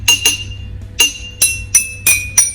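Drinking glasses holding different amounts of water are struck one after another, giving six bright, ringing clinks at uneven intervals, each with a clear sustained pitch that varies from glass to glass, loud and close with no talking.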